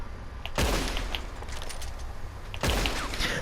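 Rifle fire from a repeater in Red Dead Online, two loud sharp shots about two seconds apart over a constant background hum, each ringing with a short echoing tail.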